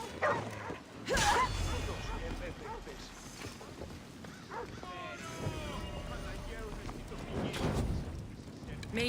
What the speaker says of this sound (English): Why is this dog attacking me?